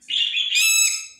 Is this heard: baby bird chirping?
yes